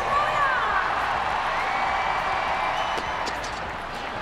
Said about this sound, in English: The crowd doesn't want him to quit.